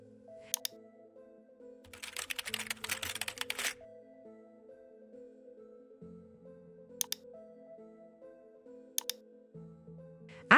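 A short burst of rapid keystrokes on a computer keyboard typing a folder path, close and crisp, over a soft steady musical backdrop with a few isolated clicks before and after.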